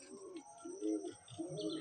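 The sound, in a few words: Madrasi/Malwai pigeon cooing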